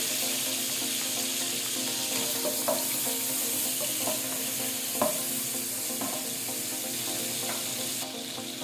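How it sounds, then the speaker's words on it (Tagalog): Garlic fries in melted margarine in a pan, giving a steady, close sizzling hiss broken by a few light clicks of a utensil, with no talk over it. "Lalagay natin itong ating garlic."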